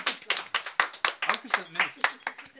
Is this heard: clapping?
yes